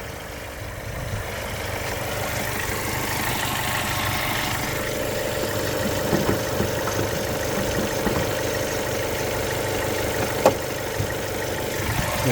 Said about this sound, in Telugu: ఇంజన్ సౌండ్ కూడా ఇదండి